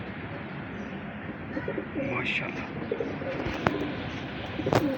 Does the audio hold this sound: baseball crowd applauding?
no